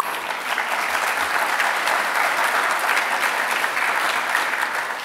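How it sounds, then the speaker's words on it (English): Sustained applause from a large crowd at a high school Year 12 graduation ceremony, dense and steady clapping that holds at an even level throughout. "keep clapping for yourselves. Like, seriously, give yourselves a clap."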